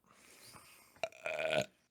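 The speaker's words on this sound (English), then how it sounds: "keep your mic on when you burp" A single loud, drawn-out burp erupts close over a microphone, rising abruptly after a faint murmur of room noise and trailing off in under a second.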